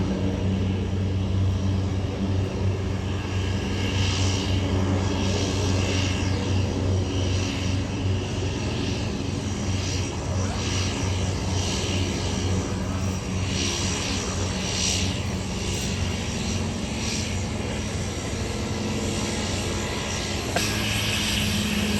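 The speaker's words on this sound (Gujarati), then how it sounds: "મારી પાછળ હમણાં એક સી પ્લેન છે અને મારા ખ્યાલથી હમણાં ટેક ઓફ કરશે." A seaplane engine in Vancouver drones steadily through takeoff and landing, a loud continuous propeller roar that stays fairly constant throughout, with no talk.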